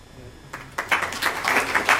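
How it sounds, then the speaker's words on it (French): Audience at a conference colloquium breaks into applause, a dense patter of clapping that starts after a quiet moment and swells to a steady, moderately loud level. "ça mérite applaudissements"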